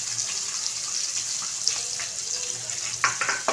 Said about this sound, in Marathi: आता इथे एक मध्यम कांदा असा बारीक चिरून घालायचा आहे